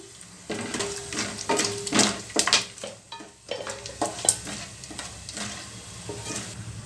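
Whole spices (cumin, bay leaf, cinnamon, clove, cardamom and stone flower) fry and sizzle in hot oil in a pan for a methi paneer gravy, with repeated stirring scrapes and clinks of a spoon against the pan.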